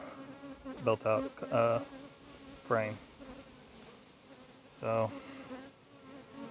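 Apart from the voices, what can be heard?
honey bees buzzing around beekeeper's head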